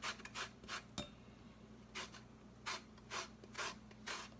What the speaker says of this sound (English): just take your grater and grate you up some lemon zest